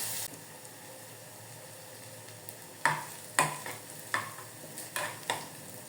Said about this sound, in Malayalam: ഇനി നമുക്ക് ആ പാനിലേക്ക് കുറച്ച് സവാള കനം കുറഞ്ഞരിഞ്ഞത് മുപ്പിച്ചെടുക്കാം